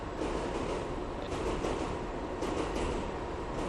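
A subway train on the 1 line runs way up in the Bronx, a loud, continuous rumble and rattle of wheels and cars passing close by, with faint squeals and no voices.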